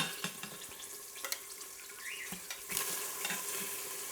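Beef pieces sizzling in the hot pot of an Instant Pot while browning for a stew, a steady crackling fry with occasional stirring scrapes, close and moderately loud with no talking.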